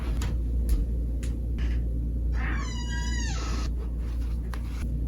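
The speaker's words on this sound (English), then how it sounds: "my cat, he wants out." A single drawn-out meow from a cat wanting to be let outside, clear and fairly close, rising and falling over about a second against a steady low room hum with a few faint ticks.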